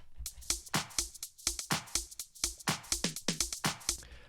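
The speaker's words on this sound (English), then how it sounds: "I've got a percussion loop taken from the Iron Pack" A tight, rhythmic percussion loop of sharp clicks and hits repeats in a fast, steady pattern, with no voices.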